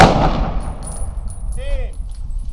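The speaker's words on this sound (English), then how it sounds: "Prepare to fire. Ready. Aim. Fire." Rifle volley fired by an honor guard at an outdoor Veterans Day ceremony downtown, a loud sharp blast at the start decaying into a long echoing rumble across the open air.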